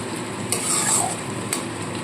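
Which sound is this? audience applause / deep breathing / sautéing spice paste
sautéing spice paste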